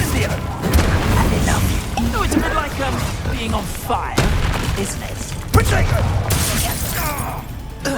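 Spell effects from the Hogwarts Legacy video game, including the Incendio fire spell, play during a battle. Dense, loud bursts and thumps sit under continuous voices, with sharp impacts near the middle and later in the stretch.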